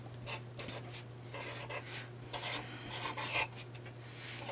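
A marker writing a name on paper and dotting letters: soft rubbing, squeaky strokes in short bursts over a steady low hum, close and fairly quiet.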